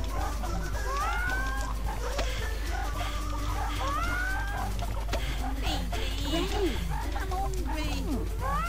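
Chickens cluck steadily through the Chicken Run video game's farmyard, a busy layer of overlapping bird calls and game effects with no talking.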